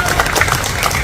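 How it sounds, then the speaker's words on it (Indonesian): Crowd applause at a Partai Demokrat anniversary event, a dense steady patter of clapping over a short stretch, mixed with some background voices. "Oleh karena itu sekali lagi diberikan tepuk tangan yang sekeras-kerasnya kepada para senior kita"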